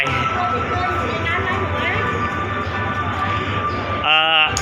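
Express train 112 on the Den Chai–Bangkok route stands at Chum Saeng station, giving off a steady low engine hum, then a short tonal horn blast near the end.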